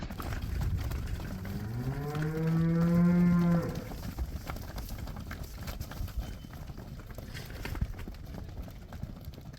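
A single long, loud moo from cattle in a handling yard rises and holds for about two seconds, then gives way to low shuffling and yard noise with scattered knocks.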